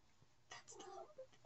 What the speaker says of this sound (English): That's just the cat. It sometimes stops by.